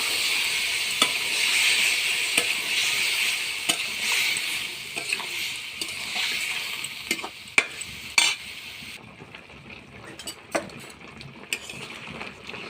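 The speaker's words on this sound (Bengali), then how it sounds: "এবার আমি নারকেলের দুধটা দিয়ে দেবো।" Coconut milk goes into a pan of frying egg and palm seed curry, bringing a loud sizzle that calms partway through, with sharp clinks of a spoon stirring against the pan.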